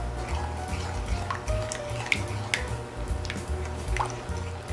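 Pumpkin pie filling with milk and sugar, from a colonial-era recipe, is beaten in a bowl, making continuous close, wet, rhythmic squishing and sloshing without any talk.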